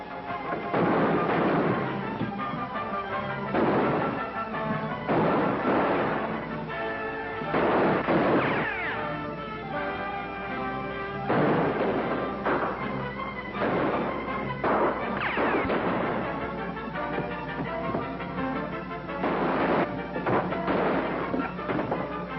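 Repeated gunfire from a 1945 western film shootout, loud bursts of shots recurring every few seconds across the scene, dense and echoing with crashes mixed in.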